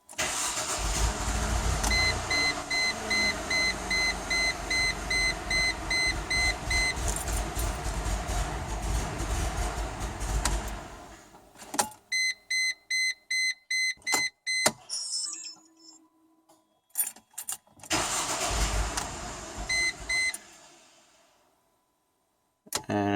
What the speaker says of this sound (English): So I'm just going to start the car now.